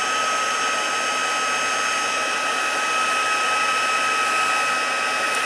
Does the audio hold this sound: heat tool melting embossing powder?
yes